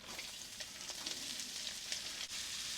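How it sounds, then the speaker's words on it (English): Onions and other vegetables sauté in rendered fat for split pea soup, a faint, steady frying hiss that stays even throughout. "So let's saute these vegetables."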